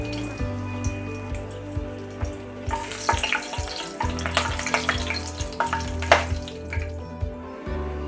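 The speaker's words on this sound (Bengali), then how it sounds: "এটা এখন আমি এটাতে শুকনো মরিচ দিয়ে ফোড়ন দিব।" Dry red chillies sizzle in hot oil, quiet at first, then breaking into a busier crackle of pops and spits partway through, with a steady low hum underneath.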